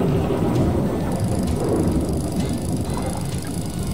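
Steady heavy rain pours down during a fishing outing, a dense continuous hiss and patter close by with a low rumbling undertone throughout and no talking.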